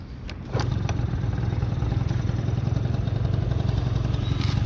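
A Honda Topic AF38 cargo scooter's small engine catches after a kickstart and settles into a steady, close putter at idle, running evenly on its own.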